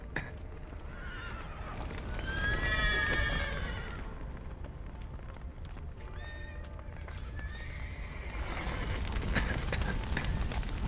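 Horses in The Witcher neigh loudly in repeated whinnies over continuous hoof clip-clop and background commotion, with a fire crackling in the scene and voices faint in the mix.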